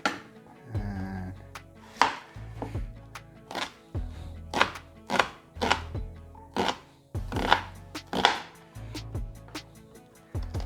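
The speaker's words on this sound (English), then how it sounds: "I think everybody has their own kind of system for chopping stuff." Onions being chopped on a board while making Thai chicken curry, a steady run of knife thunks in uneven bursts, close and distinct, with no talk.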